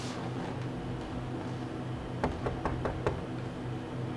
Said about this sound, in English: Who that knocking at the door?